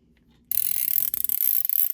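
A Workpro ratcheting screwdriver clicks rapidly and crisply after a brief silence, a close, fast run of sharp ratchet ticks for about a second and a half.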